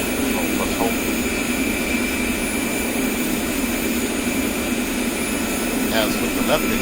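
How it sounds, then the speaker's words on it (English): A-10C Warthog's right jet engine spooling up during startup in the DCS flight simulator, a steady loud broadband whine and roar running throughout with faint voice traces. "Once again, the engine is started by moving the throttle from off to idle, or in this case, pressing the right control plus home keys."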